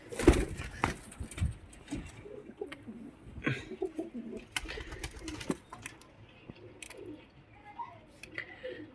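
Pigeons cooing close by, soft low coos repeating under scattered rustles, thumps and movement noises, fairly quiet overall.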